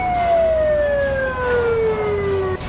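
An ambulance siren on the road during a traffic stop gives a loud, close, steady wailing tone that slowly falls in pitch over road noise, with no talking.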